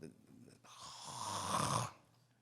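A preacher imitates loud snoring with his voice during a sermon, a single long rasping snore-like breath that builds steadily and then stops, after a brief murmur of speech.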